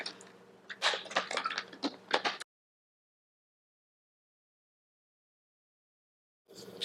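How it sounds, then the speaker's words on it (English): A person sips water during a tarot reading, with close, wet slurping and swallowing noises in a short burst, then silence before a brief resumed sound at the end. "I need a sip of water"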